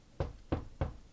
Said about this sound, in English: Let me knock on wood.